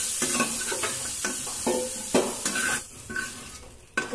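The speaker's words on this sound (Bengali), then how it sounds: "দেখুন কপিগুলো আমার লাল লাল করে ভাজা হয়ে গেছে।" Cauliflower pieces fry in hot oil until browned, with a soft sizzle broken by repeated scrapes and clinks of a spatula stirring against the pan. It sounds close and moderately quiet, with no voices.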